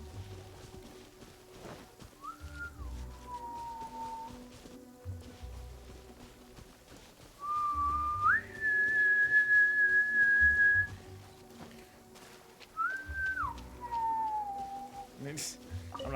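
A person whistles three short melodic phrases: a quick rising-and-falling one, a longer sustained steady note, then another falling phrase. The whistling is clear and fairly close over a low background hum.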